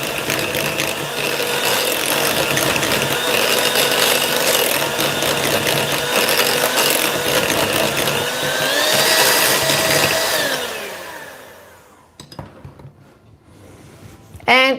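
An electric mixer beats pumpkin puree and white chocolate for pumpkin spice truffles, a loud steady motor whir lasting about ten seconds, then stopping, with faint scraping and a short clatter at the end.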